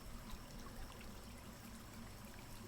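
Steady flowing river water on a quiet mountain night, a continuous soft wash of running water with no distinct splashes, even in level throughout and heard alone without any voices.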